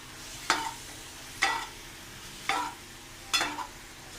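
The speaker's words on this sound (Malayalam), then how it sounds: "എന്നിട്ട് ഇതും കൂടി ഇതിൻ്റെ അകത്തേക്ക് ഇട്ടൊന്ന് നന്നായിട്ടൊന്ന് മിക്സ് ചെയ്യാം." Beef with meat masala is stirred in a frying pan: four distinct scraping strokes, roughly one second apart, with a faint sizzle between them and no voices.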